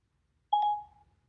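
A single soft electronic phone tone sounds when a voice-assistant call is placed, a short steady beep that fades quickly in an otherwise quiet room.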